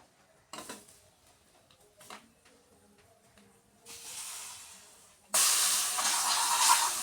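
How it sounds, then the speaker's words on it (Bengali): Black cumin and bay leaf hit hot oil for tempering. After quiet clinks of utensils comes a brief hiss, then a sudden loud, sustained close sizzle that holds to the end. "আমি ফোড়নে দিব কালো জিরে"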